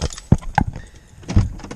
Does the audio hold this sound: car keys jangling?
yes